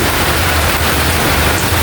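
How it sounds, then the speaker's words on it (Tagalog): Heavy rain pours steadily in a dense, loud, unbroken hiss without any pauses. "lakas talaga ng ulan"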